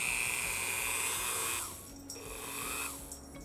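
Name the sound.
Dremel rotary tool with cloth wheel at low speed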